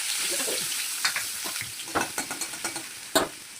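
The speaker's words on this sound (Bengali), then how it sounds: "তেলটা গরম হয়ে গেছে, এবার পেঁয়াজ লঙ্কা দিয়ে" Onion and green chili hitting hot oil give a steady close sizzle, broken by sharp scrapes and clicks of stirring, with no talk.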